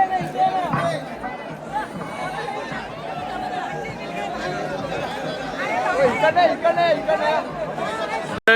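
Dense crowd chatter fills a busy street during the Ekvira palkhi procession at Apti Koliwada, with overlapping voices and a steady babble, a few nearer shouts rising toward the end.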